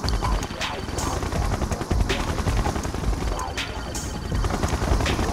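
Rotor and gunfire noise of a siege chopper helicopter in the real-time strategy game Mental Omega, a dense continuous loud rumble with repeated bursts of shots throughout.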